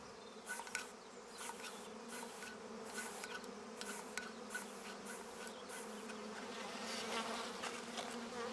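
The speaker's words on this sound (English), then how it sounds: "We've learned to control honeybees using smoke to calm them, subdue them, making them docile and less likely to sting." Honeybees buzzing in a dense, steady hum, faint but continuous, with individual bees passing close in brief louder swells over the constant drone.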